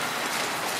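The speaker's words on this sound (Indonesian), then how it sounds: "Ini masih hujan deras, cukup deras, gerimis." Heavy rain pours steadily onto a street in Bhaktapur, Nepal, a dense, continuous hiss with no voices.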